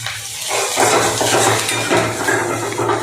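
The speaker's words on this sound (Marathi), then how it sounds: "चांगल्या पद्धतीनं परतून घ्यायची." Capsicum being stir-fried in a pan with tomato and coriander, a steady broadband sizzle with scraping and clinking of a spoon against the pan, close and fairly loud, no voice over it.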